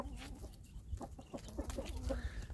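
Hens cluck close by in a small backyard flock of about four adult hens and five or six young pullets, with short repeated clucks in an uneven rhythm.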